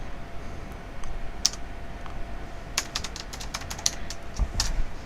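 Computer keyboard typing in a quiet room, sparse bursts of crisp key clicks and taps over a steady low hum, close and fairly clear, with no talk.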